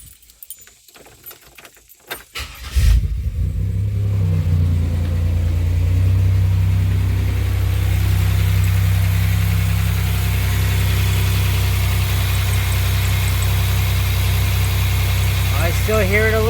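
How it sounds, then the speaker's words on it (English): A 2007 Pontiac Grand Prix with its main belt refitted starts after a few seconds of jangling keys, then settles into a loud, steady idle with a faint high belt squeal riding over the engine hum. "see if we still have that belt squeal."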